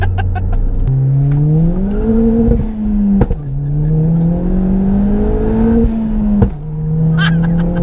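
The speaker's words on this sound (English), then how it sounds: "The pops are so fucking good." A turbocharged Ford Fiesta ST revs repeatedly with rising and falling engine pitch. Sharp exhaust pops and cracks punctuate the revs, close up and loud, with no speech.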